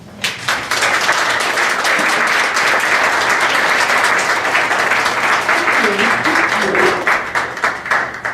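An audience applauds to welcome Samra Zafar at an interview event, loud sustained clapping from a large crowd that swells quickly, holds steady and then tapers off near the end.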